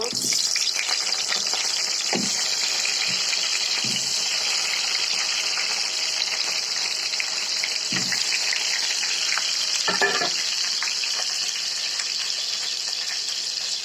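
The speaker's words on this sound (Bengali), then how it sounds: "তেলটা গরম হয়ে গেছে এখন আমি আলুগুলো দিয়ে দিব" Potatoes frying in hot oil for a chicken curry, a loud continuous hissing sizzle close to the pan, with a few low thumps and knocks scattered through it.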